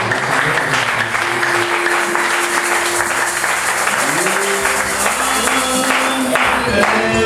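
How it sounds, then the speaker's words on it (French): A church congregation applauds during a service, with a dense wash of clapping throughout the few seconds and singing or voices carrying over the top. "Applaudissez pour le Seigneur."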